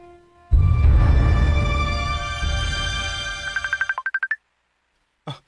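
A cellphone ringtone plays a bright melodic tune, then a quick run of rapid beeping pulses before cutting off, loud and close in a quiet room.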